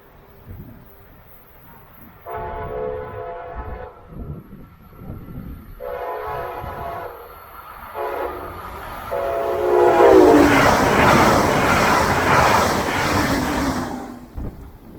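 A Brightline higher-speed test train passes at 110 mph, its horn sounding in three long blasts before the roar of the train rushing by swells loud and close and holds to the end.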